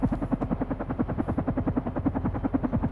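A video game helicopter from Carrion thumps with fast, even rotor beats that stay steady and close for a few seconds, with no talk over it.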